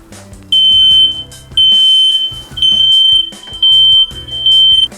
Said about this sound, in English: So you have smoke alarms going off in the common hallway.